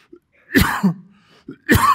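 Two rough coughs with throat clearing, close and fairly loud, separated by a brief quiet pause.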